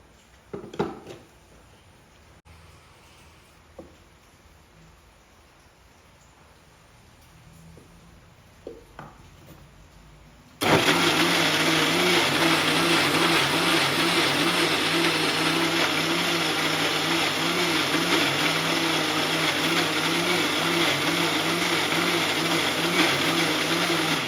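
An electric mixer grinder blending a cocoa, dates, banana and cashew paste starts partway through with a sudden loud, steady whirring drone that runs on, after some quiet handling clicks and taps.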